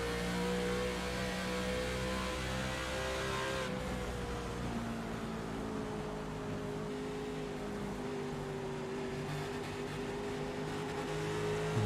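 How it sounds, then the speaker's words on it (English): A simulated race car engine in the iRacing game on an ARCA Series oval, droning steadily at high revs for the whole stretch, with the pitch shifting as the driver works the throttle, loud and continuous with no talking. "You could hear him really messing with that throttle around center of 3 and 4 there"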